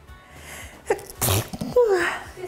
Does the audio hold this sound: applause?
no